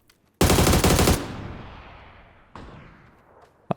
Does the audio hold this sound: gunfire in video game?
yes